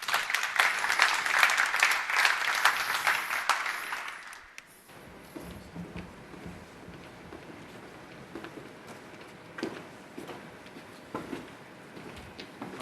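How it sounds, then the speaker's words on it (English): Audience applause at the IATA Digital, Data & Retailing Symposium 2021, fairly full for about four seconds before fading into a quiet room with a few faint knocks and rustles. "that deserves a round of applause for all of us in the room"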